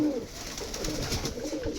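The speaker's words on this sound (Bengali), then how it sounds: "এই যে একজোড়া গোল্লা কবুতর আছে, সে ডাকতেছে" A pigeon of the Rajgolla breed coos nearby, low soft warbling calls repeating in a steady rolling rhythm.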